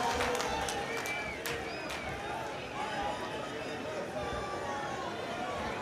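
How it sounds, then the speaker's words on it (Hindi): Steady crowd applause fills a large open-air public election campaign meeting in Ashok Vihar, Delhi, dense and continuous with a murmur of many voices mixed in. "ज़रा जोरदार तालियों से स्वागत करें, जोरदार तालियों से"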